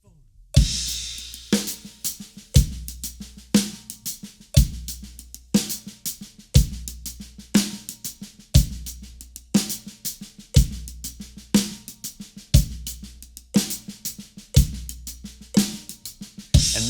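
Drum kit plays a paradiddle groove, the right hand on hi-hat and the left on snare, with bass drum under it. Sharp, evenly spaced hits repeat in a steady, close and fairly loud pattern.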